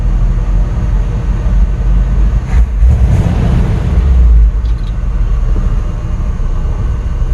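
Engine of a 1965 Chevrolet C10 pickup truck running on old gas, a loud steady low rumble close by with a brief surge in the middle and no talk.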